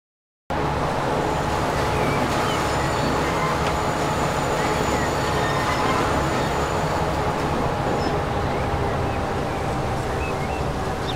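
A loaded freight train in the Transport Fever game rumbles along steadily, heard from the cab in first person as a loud, continuous rolling drone with no pauses.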